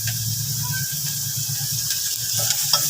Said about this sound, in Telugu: పసుపు, పచ్చిమిరపకాయలు, టమాటాలు ఇలా వేగాలి.